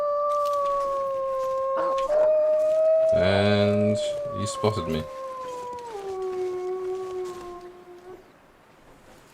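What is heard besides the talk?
wolves howling in the video game The Long Dark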